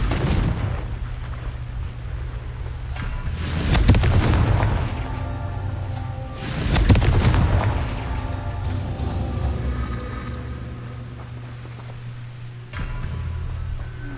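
Confringo blasting spells go off in Hogwarts Legacy on PS5, heavy booming explosions that swell and roll out twice in a row over a low sustained game ambience.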